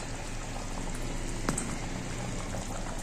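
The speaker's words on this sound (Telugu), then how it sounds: "బాగా ఉడుకు పడుతుంది" Mango and okra pulusu tamarind curry boiling in a pot, a steady close bubbling and gurgling with a continuous hiss and one sharper plop midway, without talking.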